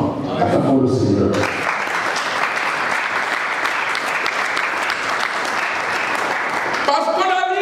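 A congregation at a church service bursts into loud, dense applause and cheering after a brief spoken or sung opening, the clapping roaring on steadily before tailing off as a voice returns.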